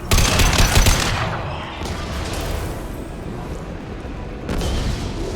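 Sustained heavy weapon gunfire in a Mass Effect 2 firefight, a loud dense barrage of rapid shots and booms running throughout with brief louder surges.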